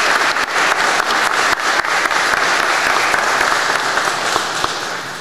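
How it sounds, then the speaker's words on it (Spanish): Sustained, dense applause from the attendees of a swearing-in ceremony at the Government House for a new Minister of Justice, steady and loud throughout with no voices over it. "recibe el aplauso de los concurrentes a esta ceremonia de juramentación"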